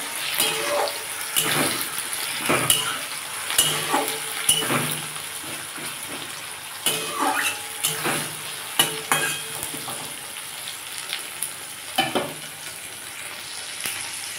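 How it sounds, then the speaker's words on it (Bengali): Onion and tomato frying in a pan, a steady hiss with repeated scraping stirs at an irregular rhythm, close and fairly loud, no voices. "এটা ভালো করে ভাজতে হবে, লাল লাল করে"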